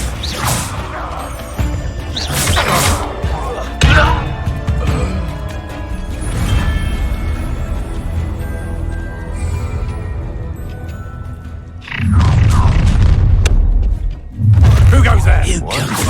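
A Confringo spell fired in the Hogwarts Legacy video game, a loud whooshing blast and crash that bursts out near the end among crackling game effects, with a voice heard earlier.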